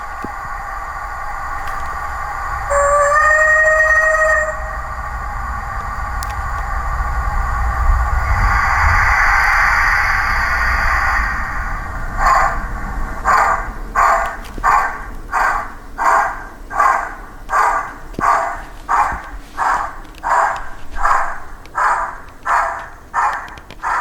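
A Hornby rebuilt Merchant Navy class model steam locomotive sounds off: a whistle, a hissing rush, then steady, rhythmic chuffs that grow louder and more regular.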